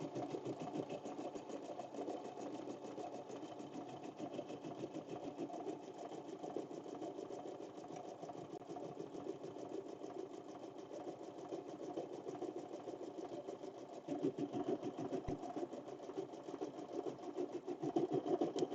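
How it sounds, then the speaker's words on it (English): A 4x4 embroidery machine stitches a puff keychain with metallic thread, humming and rattling in a fast, steady rhythm. It is faint and continuous, with no talking. "So you can do projects on the 4x4 embroidery machine."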